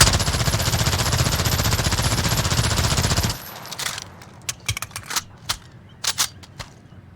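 P90 submachine gun from Call of Duty: Modern Warfare firing a long continuous burst of rapid shots for about three seconds, then a scattering of loud single cracks and short bursts.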